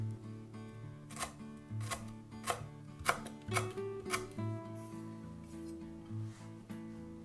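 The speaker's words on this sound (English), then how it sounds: "mince 2 lemongrass" A knife mincing lemongrass on a cutting board for a Vietnamese pork marinade, a close, steady run of crisp chopping knocks at a brisk rhythm, alone over light background music.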